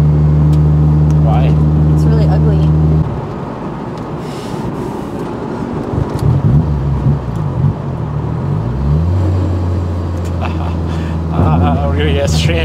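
A built Mitsubishi Evo 8 engine, starved of fuel, runs rough: a steady loud drone gives way to an uneven, sputtering, surging idle that dips and recovers, with voices talking over it.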